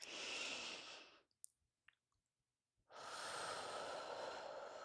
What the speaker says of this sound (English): Taking a couple of inhales and exhales.